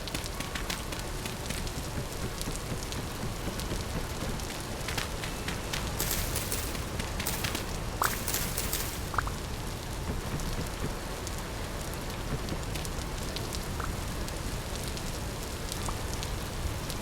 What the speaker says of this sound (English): Ah, it's still raining.